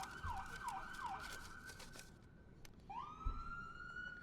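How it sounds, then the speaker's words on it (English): A police department siren is tested outdoors, rising and falling in a few quick wails, then cutting off and restarting with a long upward sweep, heard from a moderate distance with no one talking. "this is the most testing of sirens I've heard in quite some time over there at the police department."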